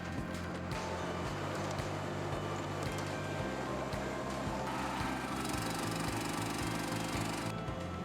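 Steady mechanical whine of a rooftop hoist motor lifting a basket of roofing slates, running continuously at close range, its pitch stepping up and down as it labors.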